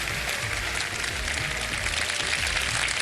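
A studio audience at a televised Ramadan iftar show claps steadily, a dense, even wash of applause sustained throughout with no break.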